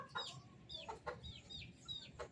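Chickens kept on a tarp-covered rooftop cluck in short, repeated bursts, several calls spaced across a couple of seconds, faint and fairly close.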